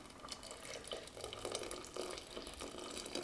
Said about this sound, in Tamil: வெல்லம் கரைச்சி வச்சதை வடிகட்டி சேர்த்துக்கலாங்க